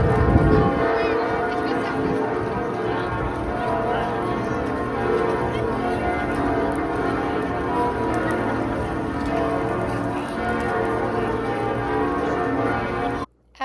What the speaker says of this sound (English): I walked over to the Notre Dame and heard the bells toll